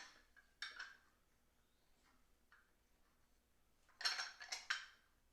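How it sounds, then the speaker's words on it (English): Small metal hand-held lemon squeezer pressing a lemon in a home kitchen, giving a few faint clicks and clinks of the hinged press, with a louder cluster of rattling metallic clicks near the end, no voices. "I'm just using this little contraption here that we have. It squeezes the juice out of the lemon."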